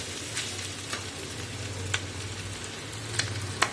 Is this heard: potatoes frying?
yes